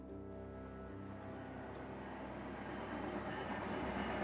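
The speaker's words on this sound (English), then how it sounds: "As you may have heard a train go by my place while we're recording." A train rolls past a house, heard as a steady, fairly distant rumble with rail clatter that swells slightly toward the end, with no voices over it.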